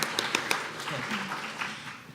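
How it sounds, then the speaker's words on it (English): Brief applause from a community meeting audience, a scattering of claps over murmuring and speech, moderate in level and fading after a couple of seconds. "you can clap on that one"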